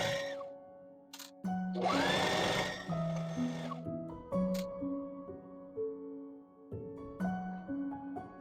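A sewing machine runs a straight stitch around the sides of a patchwork garment, its motor whirring in several close bursts of varying length with short pauses between them and no talk.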